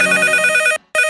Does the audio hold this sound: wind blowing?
no